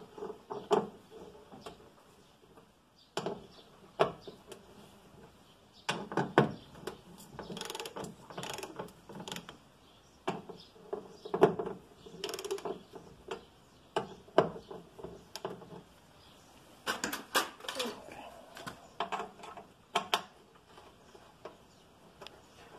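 Ratcheting tool working three tight Torx screws on the rear door lock of a Renault Megane II, a series of irregular clicking and ratchet bursts with small clanks, close and fairly loud, no talking.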